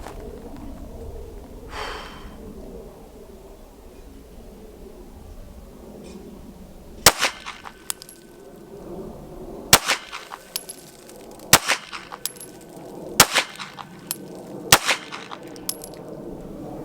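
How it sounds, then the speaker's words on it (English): Pistol gunshots fired one per circle at a 1-inch circle target drill: a quiet stretch, then about five sharp, loud cracks spaced a second or two apart, each with short ringing echoes and no talking. "So here we go, 1 shot per circle."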